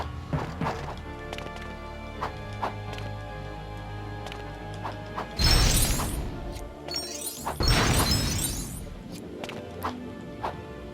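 Lego objects are smashed apart by jumping into them in the Lego Batman video game. Two loud bursts of shattering, clattering plastic break out amid lighter background game sounds and small plinks.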